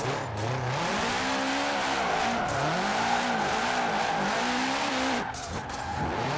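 A 2005 Subaru WRX STI drifting in the racing game Forza Horizon 4: tires squeal continuously while the engine wails and swoops in pitch through linked slides, loud and steady without talk.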